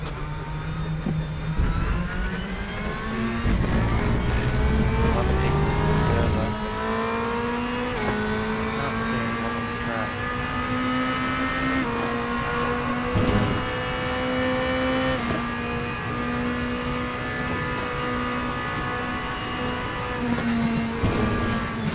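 Race car engines in the sim racing game RaceRoom, played in VR, rev and shift continuously and loudly throughout, with rising and falling tones from gear changes and no talk over them.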